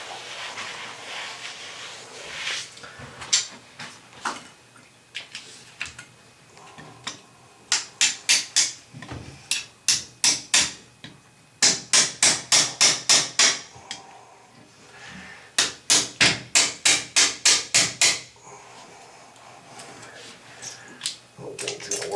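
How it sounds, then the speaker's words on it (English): A spanner is hammered in beneath an existing flange, producing repeated sharp metallic strikes in quick bursts of several blows, separated by pauses with quieter handling noise. "I'm going to try to beat this spanner in up underneath the existing flange."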